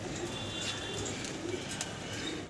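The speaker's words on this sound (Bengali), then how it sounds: "সিলভার খাকি কবুতর।" Silver khaki pigeons at a farm, cooing steadily through a short stretch of continuous background noise, with soft low coos repeating a few times.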